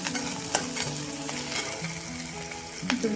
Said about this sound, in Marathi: आपला कांदा परतलेला आहे, त्याच्यामध्ये मिरची टाकूया